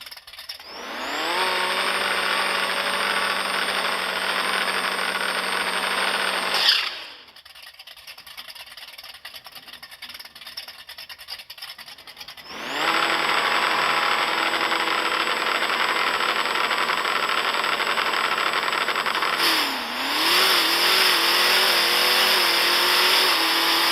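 Dodge RAM truck engine in a video game drag run: loud engine roars rise and hold high through a run, drop to a quiet idle, then roar again with a gear-shift dip near the end.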